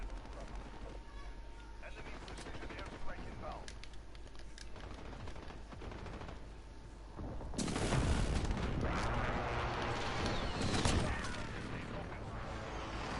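Shotgun blasts in the video game Call of Duty Modern Warfare, loud bursts of booming gunfire rising partway through amid game noise and some talk.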